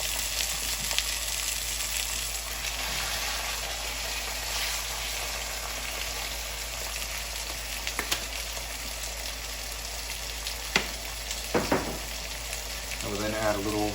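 Marinated meat sears in a hot pan with a loud, continuous sizzle and crackle throughout, close up. A few louder pops and scrapes come near the end.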